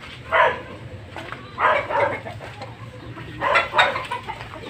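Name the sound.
roosters clucking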